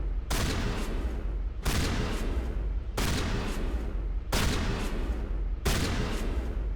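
A rapid-fire weapon shoots in Mass Effect Legendary Edition, heard as five sustained bursts of dense gunfire, each lasting over a second with brief pauses between, loud and close with no talking.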